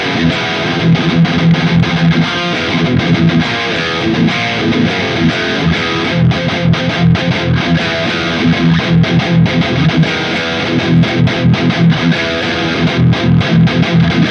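A heavily distorted electric guitar through the distortion channel of a Mesa Mark IV amp plays chugging riffs and chords, loud and close, with a gritty crunchy tone throughout.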